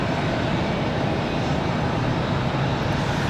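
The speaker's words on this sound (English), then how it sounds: "I got a Southwest landing over on the other side" Southwest Boeing 737 MAX 8 airliner landing at Raleigh-Durham airport, flight 187 from Nashville: steady broad jet engine roar, distant and constant, with windy background noise and no voices.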